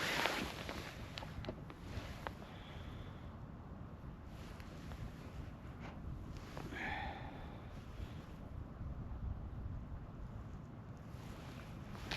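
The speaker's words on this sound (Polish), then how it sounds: "Wiatr się znowu ruszył" Steady wind rushing and buffeting the microphone beside a lake during a winter fishing session, a broad, even outdoor noise with no voices over it and faint brief higher chirps in the middle.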